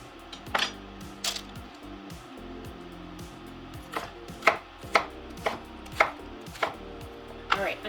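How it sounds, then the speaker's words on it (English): Knife chopping a medium yellow onion on a board: a series of sharp, close thuds, sparse at first and then coming in a quicker, regular rhythm, with no voices. "is chop up my onion and my celery. This is 1 medium yellow onion."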